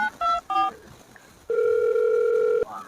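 A telephone on a call plays a few short keypad dialing beeps, then a single steady electronic tone holds for about a second before cutting off.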